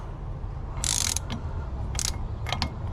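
A wrench ratchets while tightening the wheel bearing nut on a Series 1 Holden Commodore, giving several short bursts of close, crisp clicking separated by pauses over a low background hum.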